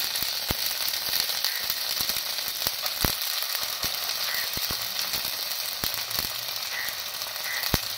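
Spice paste hits a pan of frying ginger: a continuous bright sizzle broken by sharp, scattered crackling pops, with no voices.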